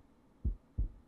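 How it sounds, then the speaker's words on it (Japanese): A heartbeat sound effect gives two deep, muffled thumps about a third of a second apart, close and isolated over a faint quiet background. "心臓の音聞こえる。"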